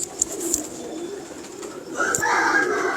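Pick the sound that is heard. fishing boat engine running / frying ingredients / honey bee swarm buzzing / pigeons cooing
pigeons cooing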